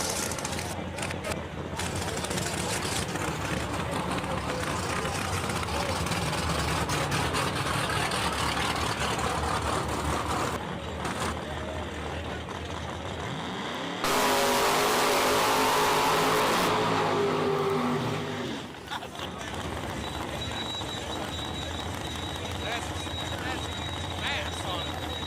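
Drag racing car engines thunder at the racetrack during the Strange Engineering Ronnie Buff Memorial, a long steady engine roar with a loud full-throttle burst in the middle, under a commentator talking.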